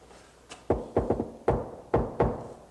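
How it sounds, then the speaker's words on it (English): Knocking on a door in Glasgow, about seven sharp knocks in uneven groups of two and three, close and crisp, with no talk over them. "Glasgow knock."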